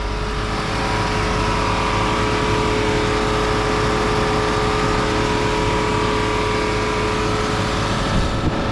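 A 1976 Mercedes-Benz 450SL with the M117 engine idles steadily and close, a smooth continuous hum with even tone and no revving or talk throughout.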